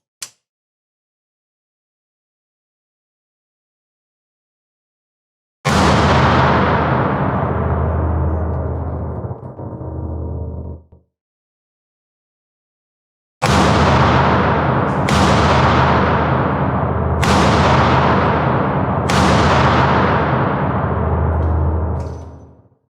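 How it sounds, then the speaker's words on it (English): Five loud gunshots from a Heritage Roscoe small-frame 2-inch snub-nose revolver in 38 Special, one lone single-action shot followed after a pause by four rapid double-action shots, each ringing out with a long decaying tail. "The crew is going to shoot at the center of our target."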